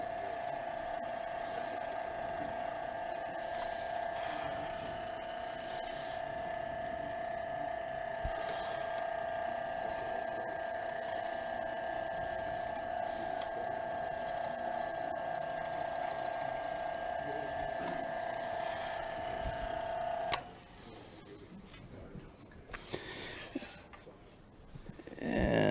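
A power drill bores into a wooden wine glass stem, giving a steady, loud whine with a fixed tone that runs without a break for about twenty seconds before it stops and leaves a quieter stretch of handling noise.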